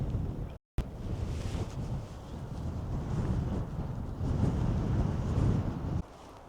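Strong breeze buffets the microphone on an exposed rocky outcrop in Western Australia, a steady low rumbling gusty roar that swells in the middle and eases near the end, with no voices.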